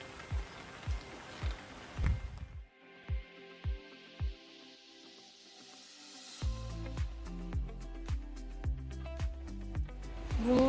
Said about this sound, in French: on est actuellement coincé au pont de bambou puisqu'il y a de la pluie et beaucoup d'orage